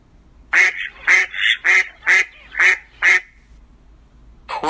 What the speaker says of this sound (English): Mallard.